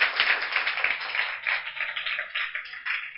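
Children clap together to welcome guests at a prize distribution ceremony for a summer camp, a dense, continuous patter of many hands rising and falling in waves.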